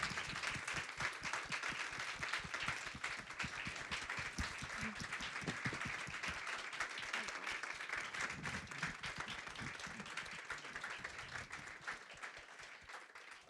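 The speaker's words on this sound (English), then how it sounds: "Could we have a round of applause for the man behind it all, Mr. Vin Gupta?" An audience at a Clinton Global Initiative event applauds steadily, a dense crowd of clapping hands that holds for several seconds and then gradually thins and fades toward the end.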